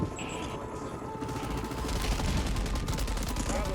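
Rapid gunfire in the Call of Duty game Rebirth Island, bursts of shots crackling continuously at moderate distance amid game ambience, with no clear single shot standing out.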